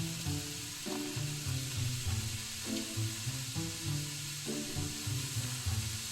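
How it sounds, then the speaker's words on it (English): Ground beef browning in a pan, a steady loud sizzle with continuous frying crackle and bits of stirring underneath. "add your ground beef. Cook that up until it's browned."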